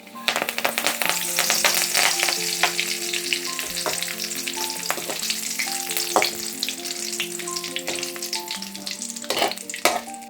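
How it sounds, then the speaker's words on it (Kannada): Curry leaves fry in hot oil with a lively, crackling sizzle, broken by sharp pops and spatters and the clink of stirring, steady throughout and close by. "ಕರಿಬೇವು ಏನಿರುತ್ತಲ್ಲ ಅದನ್ನು ಕೂಡ ಶೇಂಗಾ ರೀತಿಯೇ ಫ್ರೈ ಮಾಡ್ಕೋಬೇಕು."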